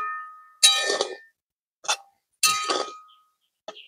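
A metal pot lid clangs and clinks as it is lifted off a pot of soybeans simmering in milk, with two louder metallic bursts and two shorter light clinks, close and with no talk.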